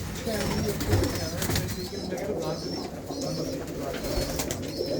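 Pigeons coo in a fancier's loft in England, soft throaty calls repeating over a steady rustle of birds, with faint voices murmuring in the background.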